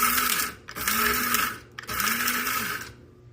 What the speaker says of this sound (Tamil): நாங்கள் காலிக்கும் கருவேப்பிலையும் போட்டு திருப்பி ஒருக்கா கிரைண்ட் பண்ணுவோம்.